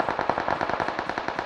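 Rapid automatic gunfire in BGMI (PUBG Mobile), a dense run of close, loud shots that repeats steadily through the whole burst, with no talk over it.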